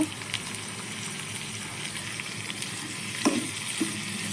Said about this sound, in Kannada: ಈರುಳ್ಳಿ ಬೆಂಡೆ ಚೆನ್ನಾಗಿ ಫ್ರೈ ಆಗಿದೆ